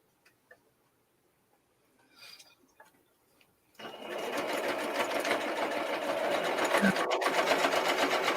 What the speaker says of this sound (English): there she is, sewing down the middle of that book